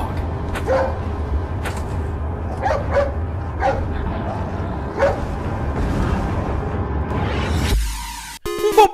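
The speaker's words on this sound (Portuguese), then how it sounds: "Hey, it's that dog." The hunting dog from the Duck Hunt video game yips and barks in short bursts spaced across a continuous game backdrop, ending in an abrupt electronic jingle.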